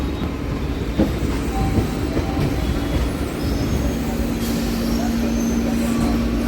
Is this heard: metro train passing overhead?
yes